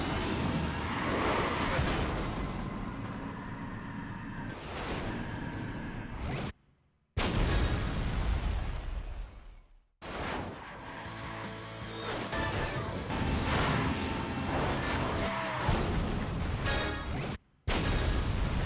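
Car crash explosion in the Burnout Dominator racing video game: loud whooshes, smashes and booming blasts over a continuous game soundscape, broken by a few brief silent cuts.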